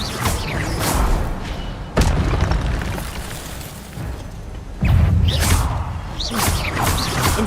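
Expelliarmus spell effects in Hogwarts Legacy, two sudden booming impacts a few seconds apart, each a sharp thud followed by a rushing magical whoosh, loud against game ambience.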